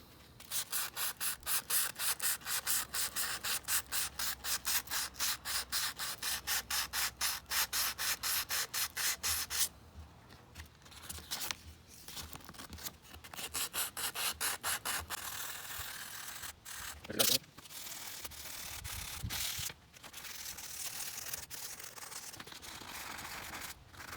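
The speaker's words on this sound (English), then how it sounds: "So you're just going to try and take that out by sanding." Steady rhythmic scraping of sandpaper rubbed back and forth over painted car hood vents, close and continuous, then slower, more irregular strokes with brief pauses.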